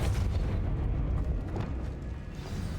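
Depulso spell pushing a barricade in Hogwarts Legacy, heard as a heavy continuous booming rumble with rough low-end thuds, loud and sustained for a few seconds.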